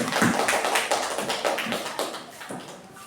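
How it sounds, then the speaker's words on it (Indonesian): Audience applause at a school teachers' training session, steady crowd clapping filling the short stretch without voices over it. "Mari kita kasih aplaus kepada Bu Dian dan Bu"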